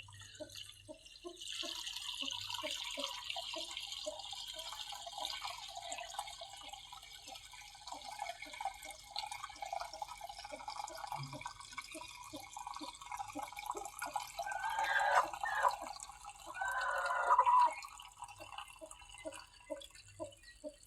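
Water trickles and drips steadily while mustard greens for village-style sarson ka saag are washed, a faint continuous flow with soft splashes rising near the end.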